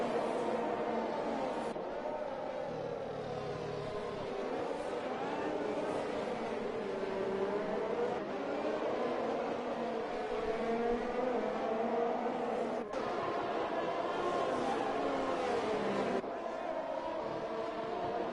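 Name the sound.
race cars racing on the Abu Dhabi circuit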